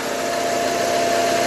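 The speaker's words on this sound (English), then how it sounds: "Idling a bit smoother now" A Mercedes SLK engine idles steadily throughout, a continuous even hum with a faint vibrating buzz, close and alone with no voices.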